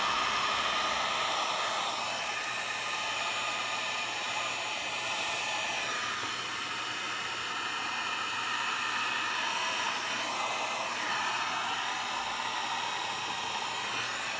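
Heat gun blowing hot air over alcohol inks with metallic powders on paper, a steady, continuous loud rushing hiss of airflow throughout with slight variations in tone, no talking.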